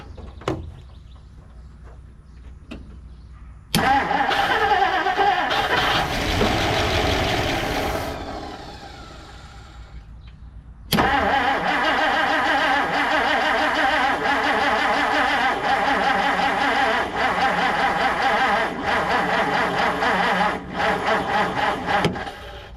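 A long-abandoned 1959 Plymouth Savoy engine cranks and catches, then runs loudly and steadily, dips briefly, and surges back to a sustained rough roar close by.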